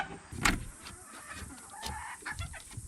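Hens in a new backyard coop cluck and chatter close by. A sharp squawk stands out early, and softer, uneven clucks follow.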